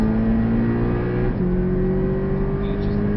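Porsche 718 at full throttle on the Portimão racetrack, a loud, steady engine drone close by that steps down in pitch midway, as if changing gear, then keeps pulling.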